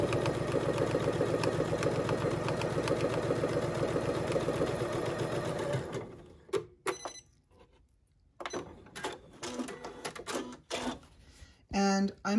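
A sewing machine runs a quarter-inch seam along fabric with a quarter-inch foot, its rapid, even clatter lasting about six seconds before stopping. Scattered handling clicks and rustles follow.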